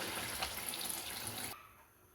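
Water pours steadily into a pot of chicken for pulao, a close, even splashing stream that stops abruptly after about a second and a half.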